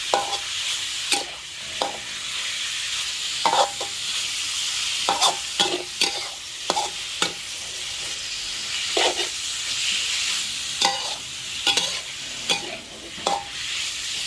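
Pork, half a kilo, stir-fried in a pan for a long-eggplant dish, with a steady sizzle and hiss under repeated sharp scrapes and clacks of a spatula against the pan, close and fairly loud with no talking.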